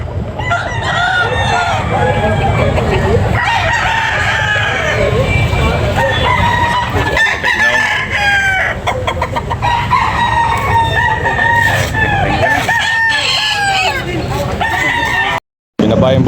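Several roosters crow repeatedly and loudly at a chicken sale, overlapping with clucking and the bustle of people talking in the background.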